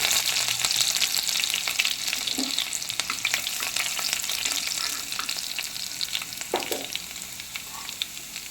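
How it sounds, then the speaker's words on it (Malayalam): Chopped garlic fries in hot oil that already holds popped mustard seeds, a constant close sizzle with scraping stirs of a spoon in the pan and a few soft knocks, with no voices. "ഇനി നമുക്കതിലേക്ക് അരിഞ്ഞ് വെച്ചിരിക്കുന്ന വെളുത്തുള്ളി ഇട്ട് കൊടുക്കാം"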